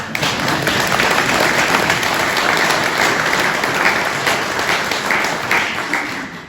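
A crowd at a village grant announcement breaks into dense, sustained applause, loud and continuous before fading slightly at the close.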